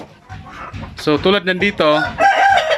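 Native chickens clucking with a rooster crowing loudly and repeatedly at close range in a breeding pen, while someone talks briefly at the start.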